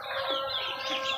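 A chicken just let out of its cage makes soft, rising clucks and calls in a brief, faint stretch with no talk over it.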